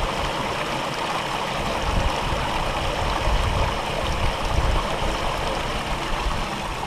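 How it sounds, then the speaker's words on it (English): Aerated white water rushes through the header box of an eco highbanker used for gold prospecting, making a steady, close, fairly loud gushing roar with a low churning rumble and no talking. "Lots of good white water up in the header box."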